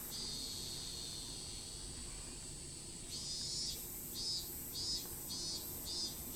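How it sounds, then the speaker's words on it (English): Cicadas in the village setting of the video game Higurashi When They Cry, a steady high buzzing drone that turns into a pulsing, rhythmic chirp partway through, heard alone at low level. "Look, there's the cicadas."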